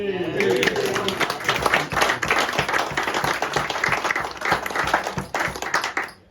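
A meeting audience claps for the 50th Anniversary Committee, a brisk burst of clear, close individual hand claps that holds steady for about six seconds before tapering off.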